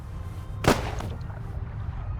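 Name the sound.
gunshot in The Raven Remastered video game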